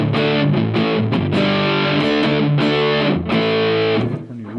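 An electric guitar plays through an overdrive pedal and an American-voiced amp emulator with a Strymon Iridium engaged, giving loud, thick, distorted chords that ring continuously and fade slightly at the end.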